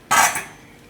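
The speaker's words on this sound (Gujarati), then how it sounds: "તો આ સાબુદાણા આપણે બીજા વાસણમાં કાઢી લેવું" A quick clatter of a utensil against a pot as cooked sabudana (sago pearls) is tipped into another vessel in a home kitchen, one short burst that fades quickly.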